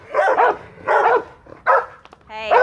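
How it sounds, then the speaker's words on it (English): Several sharp dog barks and yips trade back and forth in quick bursts, close and loud, with a short whine between them. "Y'all quit barking at each other."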